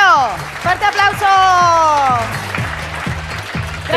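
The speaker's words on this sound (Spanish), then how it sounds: "¡un fuerte pues... aplauso para Pedro III! ¡Fuerte aplauso!" A street audience at a San Fermín festival illusionist show claps for the magician, applause running under a loud amplified voice with a harmonic, singing-like pitch and rhythmic low thumps throughout.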